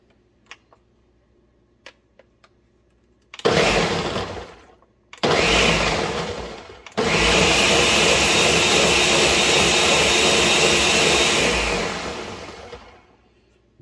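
A blender pulses tomato peels with two cups of water in loud bursts: two short blasts, then one long sustained whirring run that slows and stops, with a few faint clicks before it begins.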